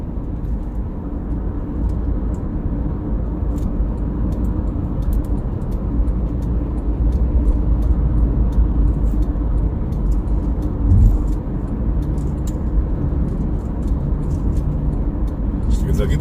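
A car cruises along an inner-city toll road in Jakarta toward the Kuningan flyover in light pre-dawn traffic, a steady low engine and road rumble heard from inside the cabin beneath continuous talk.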